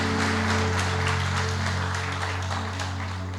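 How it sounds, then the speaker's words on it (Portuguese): A church congregation applauds loudly in a dense, continuous wash of clapping that tapers slightly at the end, with a steady hum underneath. "Então aplauda bem forte a Jesus."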